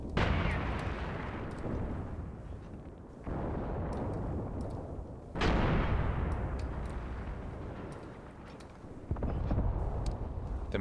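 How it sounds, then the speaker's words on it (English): Mortar salvos in the WWII tactics game Graviteam Tactics Mius Front: a series of heavy, booming launches, roughly four distinct thumps, each followed by a long rumbling decay, loud and unaccompanied by speech. "The mortars are firing and firing and firing."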